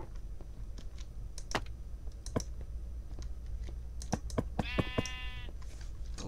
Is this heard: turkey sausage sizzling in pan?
no